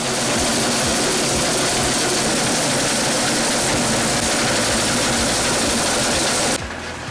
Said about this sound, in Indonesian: Pemisahan keong dari cangkangnya dibuatkan sendiri mesin khusus oleh Muhammad Amin dan para anak jalanan.